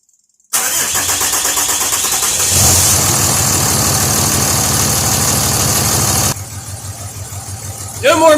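A Cummins diesel engine cranks briefly, then catches and settles into a loud, steady close-up idle. It rises to a heavier rumble midway before dropping back near the end.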